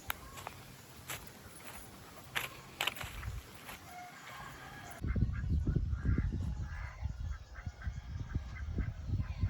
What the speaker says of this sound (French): Il y a des poules, des coqs partout, mais vraiment en quantité incroyable